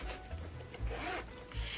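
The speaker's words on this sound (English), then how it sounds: "I'd probably put it in this middle zipper compartment right here" Zipper pulled along the middle compartment of a Coach Quilted Tabby 26 bag, a close, raspy run with a couple of short fabric rubs, heard alone.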